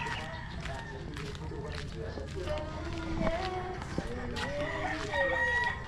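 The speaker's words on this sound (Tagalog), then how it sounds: "Daming manok dito." Chickens cluck and a rooster crows in a flock around a yard, the calls close and repeated over steady background noise, with people talking nearby.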